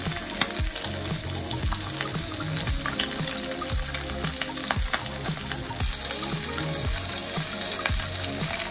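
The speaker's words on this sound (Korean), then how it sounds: "너무 오래 조리하면 문어가 질겨지니까 색이 살짝만 나면 빼주세요." Octopus sizzles and fries in olive oil in a pan, a dense steady crackle with frequent sharp pops and spatters, close and continuous without any talking.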